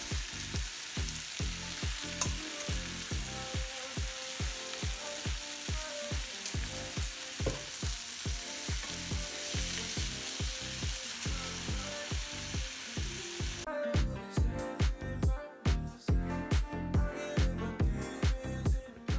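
Chicken satay skewers sizzle and crackle steadily over the heat, with a continuous frying hiss and rapid rhythmic ticking pulses throughout, near and moderately quiet, the texture shifting sharper toward the end.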